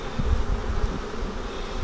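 A swarm of honeybees on a farm, a continuous close droning buzz with low fluttering wingbeats, steady and fairly loud throughout.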